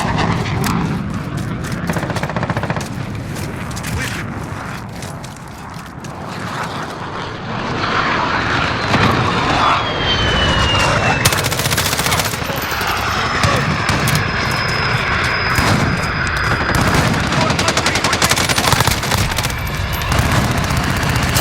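Air support aircraft in a Call of Duty Modern Warfare team deathmatch roar in loud and sustained with engine drone and whooshing passes, building into dense blasts of gunfire and booms in the second half, no voices.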